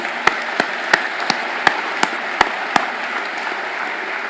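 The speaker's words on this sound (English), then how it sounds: "I would like to once again ask you to give them a round of applause" An audience at a space conference opening ceremony applauds astronauts and cosmonauts, with a steady wash of clapping and a series of sharper claps that thin out toward the end.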